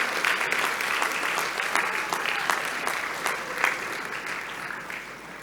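Graduation ceremony audience in Singapore applauding steadily, a loud, full round of dense clapping with sharper individual claps standing out, tapering slightly toward the end.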